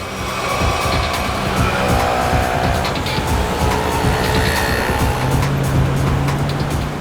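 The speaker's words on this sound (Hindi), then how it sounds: "गाड़ी तेज चलाओ" A car races at speed during a chase. The engine roars loud and constant with a rushing, hissing road noise, and a low droning tone swells near the end.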